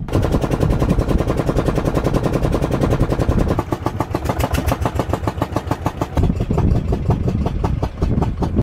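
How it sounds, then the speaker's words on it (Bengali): A country boat's engine chugs loudly and steadily in rapid, even pulses as the boat pulls away from a river ghat near Tikli Char, a remote border village, the rhythm shifting slightly partway through. "তো চলুন এই নৌকাটা এখনই ছাড়বে"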